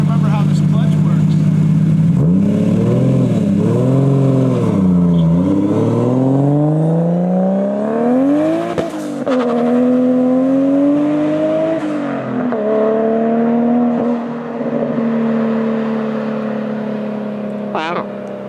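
1JZ-swapped Nissan 240SX revving on dyno rollers, a loud, close engine climbing and dropping through repeated pulls before settling into a sustained high-rpm drone, with voices speaking underneath.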